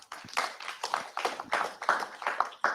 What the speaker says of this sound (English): And yes, a round of applause,